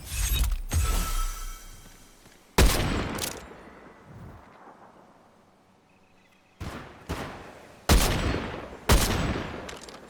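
Gunfire in Fortnite: a quick burst of shots at the start, then sharp single cracks and short volleys after a quieter gap, loud and close.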